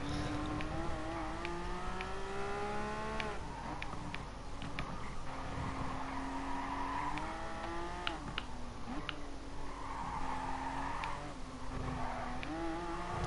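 Race car engine note in GT Sport, a Porsche Cup race, rising and falling with gear changes alongside a continuous tire squeal as a car slides through a corner, steady and close throughout.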